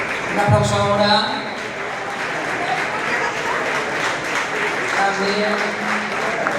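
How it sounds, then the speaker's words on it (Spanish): Applause from the audience at a gala for a Marina Alta running circuit, steady clapping across the whole clip, while someone talks over it at the start and end. "Un aplauso ahora"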